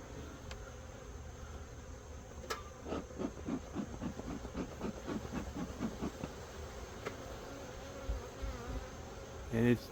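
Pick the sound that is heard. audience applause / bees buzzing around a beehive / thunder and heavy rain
bees buzzing around a beehive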